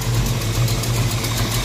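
A Ford Foxbody Mustang engine idles with a slight exhaust leak near freshly painted headers. It gives a steady, close, loud rumble with a faint regular ticking pulse running through it, and no talking.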